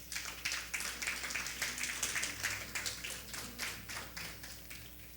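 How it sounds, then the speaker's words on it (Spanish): A church congregation applauds steadily for several seconds, a dense, even wash of many hands clapping at moderate distance, fairly quiet overall with no talking over it. "¿Alguien le podrá dar un aplauso al Señor?"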